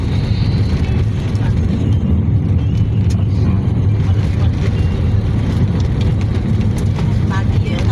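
Motorized tricycle engine while riding a foggy road from Tanay toward San Mateo, Rizal, a close, continuous buzzing drone with wind rush and a voice talking over it.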